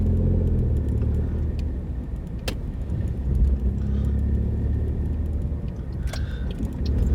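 Car driving through a town on a Sunday morning, a steady close engine and road rumble heard from inside with faint occasional rattles and no talking.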